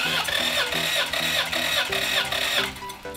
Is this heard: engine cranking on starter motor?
yes